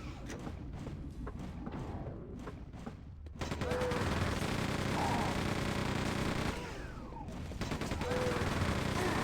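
Machine-gun fire in Quake II, a fast run of rapid shots in the opening seconds, a short pause, then a longer stretch of dense sustained gunfire mixed with thuds, all at a fairly low level.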